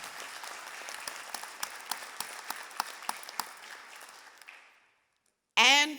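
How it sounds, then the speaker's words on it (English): An audience applauds with lively, sustained clapping that fades out, followed by a brief voice, at a university presidential investiture ceremony. "Give yourselves a round of applause."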